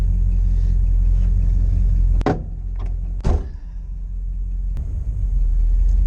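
A 1968 Dodge Charger engine runs while driving, a steady deep rumble heard from inside the car, broken by a couple of sharp thuds and a faint later click.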